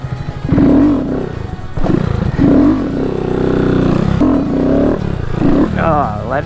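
A Honda Grom motorcycle engine revs in repeated surges during wheelies, each rising buzz dropping off sharply as the throttle is cut, close and loud.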